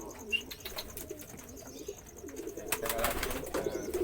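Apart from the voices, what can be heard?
pigeons cooing during courtship (giring)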